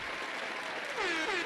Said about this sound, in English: Round of applause. You did it.